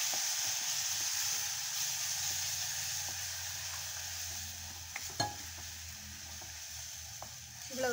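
A steady sizzle of ground spice paste with tomato and green chilli frying in a pan, with occasional scrapes and taps of a spoon stirring close by.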